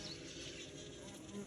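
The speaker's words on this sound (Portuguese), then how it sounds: "Olha quanta abelha. É muita abelha, pessoal." Dense swarm of honey bees buzzing steadily around hives on a farm, with stingless bees working alongside, a continuous close hum with no break for the whole stretch.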